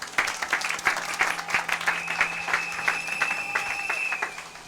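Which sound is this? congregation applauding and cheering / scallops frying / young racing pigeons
congregation applauding and cheering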